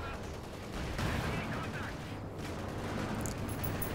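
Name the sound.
tank gunfire in the video game Company of Heroes 2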